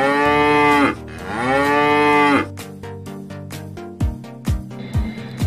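Two long, deep moos from a water buffalo, one after another, followed by a series of short percussive knocks and thumps.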